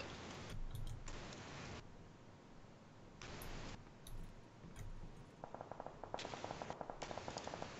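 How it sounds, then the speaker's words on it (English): Gunfire in PlayerUnknown's Battlegrounds crackles in bursts, distant and fairly faint, with a rapid ticking run of shots near the end. "East-northeast, shots coming from."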